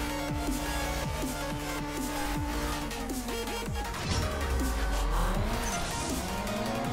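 Race cars in CSR Racing 2 roar through rising and falling engine revs, with repeated quick gear shifts and a surge of acceleration, all loud and close.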